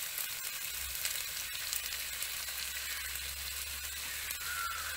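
Onions sizzling in a pan with salt added, a steady close hissing fry that runs continuously with faint low rumble beneath and no voices.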